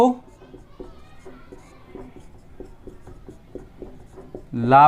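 Chalk or marker writing on a board during a geography lesson gives a run of short, evenly spaced scratchy taps, close and moderately loud, with a teacher's voice at the start and end.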